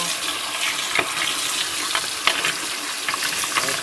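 Cool water rinses disassembled Nintendo NES console parts, a steady broadband splashing and hiss from the tap with a few brief louder spatters, continuous and close, with no talking.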